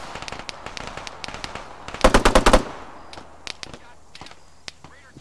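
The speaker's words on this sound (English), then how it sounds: "Still some shots being fired to our west" Gunfire in the video game ArmA 3: scattered sharp single shots, then a loud rapid automatic burst of about six rounds.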